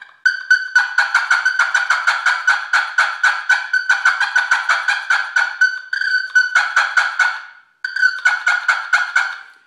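A push-button plunger turkey call rattles off rapid, choppy cackling notes in quick bursts, loud and close, pausing briefly twice before resuming; a call imitating a hen's fly-down cackle.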